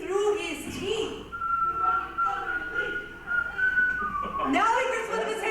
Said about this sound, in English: He's whistling through his teeth.